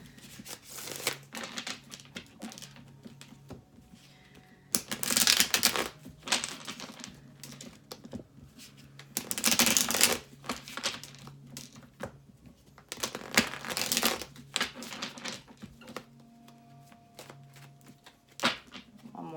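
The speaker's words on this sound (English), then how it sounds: "I'm going to do a couple shuffles for Gemini." Tarot cards are shuffled in repeated crisp riffling bursts with softer rustling in between, close up and fairly quiet, no talking.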